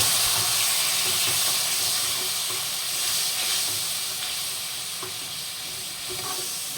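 Water splashed onto reddened onions salted in a hot pan for a fish recipe, setting off a loud, close, continuous steam hiss and sizzle that eases off slightly as it carries on.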